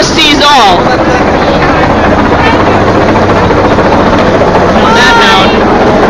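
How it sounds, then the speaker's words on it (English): A helicopter hovers overhead above a large street march, its steady rotor drone loud and continuous throughout, with crowd noise and nearby voices talking over it. "The helicopter up above us sees all."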